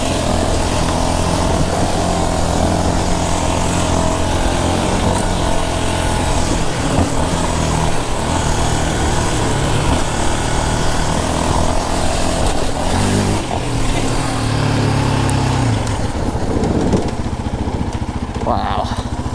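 A 2022 Yamaha Raptor 700R SE quad's engine drones loudly and continuously while riding, a close, steady rumble with wind buffeting and slight shifts in pitch.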